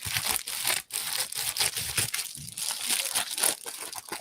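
Scissors cut up crinkly plastic packaging close by, a continuous dense crackling and rustling broken by short snips.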